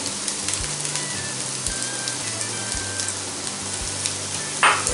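Boneless chicken pieces sizzle and fry steadily in a hot pan for a chicken Russian kabab, a continuous close crackle with faint stirring and a brief louder hiss near the end, no talking.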